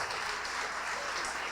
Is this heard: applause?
yes